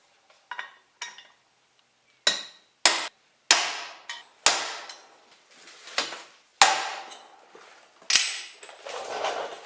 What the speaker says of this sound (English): First thing I'll do is start off with these transfer punches that I've showed you before.